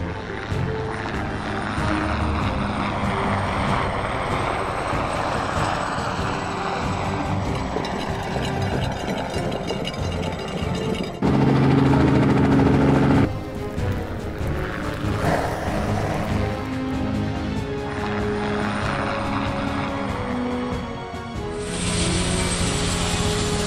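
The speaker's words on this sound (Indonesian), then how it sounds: "aku helikopter pemadam kebakaran" A firefighting helicopter's rotor and engine drone loudly and continuously, with shifting tones and a few abrupt changes in the mechanical roar.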